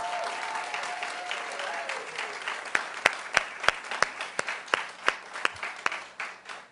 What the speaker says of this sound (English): Let's give Taggart a big round of applause